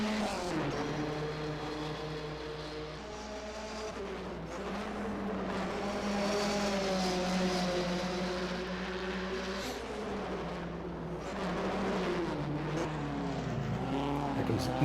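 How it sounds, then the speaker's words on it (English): Vintage 1958 Formula One race cars in a racing video game, at the Moroccan Grand Prix, drone past on track with sustained, shifting engine tones that rise and fall steadily throughout. "Here comes Nilsson through the start-finish area, well adrift of Hlavich"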